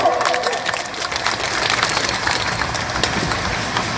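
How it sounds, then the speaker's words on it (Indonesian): A crowd at an outdoor protest outside a presidential palace in Jakarta claps loudly, a dense rain-like roar of many hands with a low rumble underneath that continues evenly throughout. "tepuk tangan dulu."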